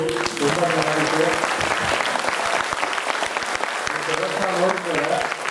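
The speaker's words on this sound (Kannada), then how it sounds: "ಅವರಿಗೆ ಜೋರ ಚಪ್ಪಾಳೆ." Loud, sustained applause from an audience after a Yakshagana performance at the HKM Utsav 2024, dense clapping filling the whole stretch with murmurs and voices mixed in.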